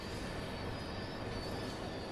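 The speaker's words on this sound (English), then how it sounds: "We're coming into the stop. There we go. We've stopped the train." A Class 66 freight locomotive in the Train Sim World 4 video game gives a steady, dense rumble and rail roar that holds constant and fairly faint, with no pauses.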